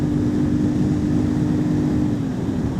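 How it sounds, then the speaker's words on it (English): CFMOTO 450SS motorcycle cruising on a highway, a steady loud engine drone with a sustained low hum and broadband wind rush throughout, no talking. "we're going to get this bike up on the highway"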